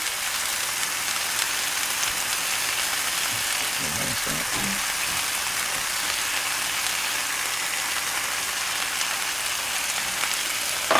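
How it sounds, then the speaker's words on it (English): Potatoes and onions in a pan give a steady, even sizzle that runs for the whole stretch, with a brief low rumble partway through. "First I put my potatoes in the pan"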